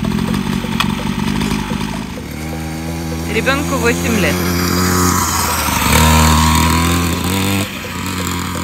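A real children's motorcycle engine starts up and runs with a steady, buzzing, harmonic drone that holds for several seconds at close range, with people talking over it.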